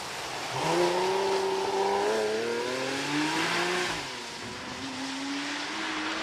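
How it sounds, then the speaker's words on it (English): Porsche Cayman race car at Prescott hillclimb accelerating hard away, engine note climbing through several gear changes with rising harmonics, loud and close at first then easing slightly as it pulls away. "Jay McFarlane has taken off in the Cayman."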